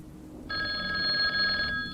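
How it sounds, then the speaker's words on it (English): A hotel desk phone rings with a loud, steady electronic trill lasting over a second, close by over low background hiss. "It was the hotel phone."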